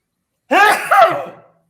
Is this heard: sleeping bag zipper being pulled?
no